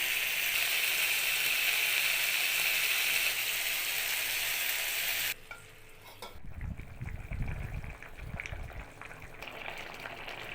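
Drumstick and vegetable curry sautéing in a pan, starting with a loud, steady hiss that drops away midway, followed by softer bubbling and a few low stirring thuds.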